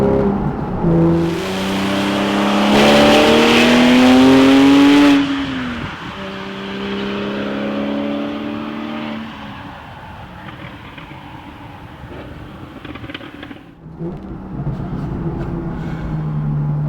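A 2013 Porsche 911 Carrera 4S, the 991 generation with a manual gearbox, revs loudly on a test drive, its engine note rising through the gears, easing off, then picking up again at a lower level.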